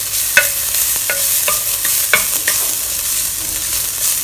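Minced ginger, chopped garlic, shallots and a star anise are stir-fried in a clay pot, a loud constant sizzle punctuated by repeated sharp knocks and scrapes of a spatula against the pot.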